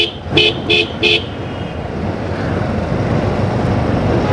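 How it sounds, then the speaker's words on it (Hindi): A motorbike horn sounds three quick toots in a row, then the hum and rumble of a crowded road carries on steadily from a rider's point of view on a festive Eid day. "मैं हॉर्न लगा रहा हूँ"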